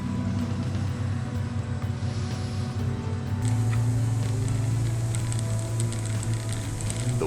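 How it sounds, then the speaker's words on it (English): Toyota overlanding over granite rocks with wet brakes, a continuous engine drone and rumble with grinding and squealing tones, growing louder midway and staying steady and close. "Doing this with wet brakes makes for a very noisy video"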